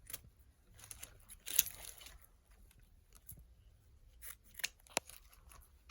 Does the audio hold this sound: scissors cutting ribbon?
yes